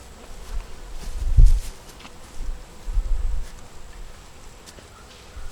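Honeybees in an opened beehive make a low, soft buzz that swells a few times, with occasional faint rustles and no talking.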